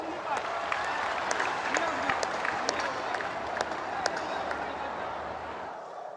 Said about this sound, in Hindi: हो जाए ताली आज आपके नाम पर।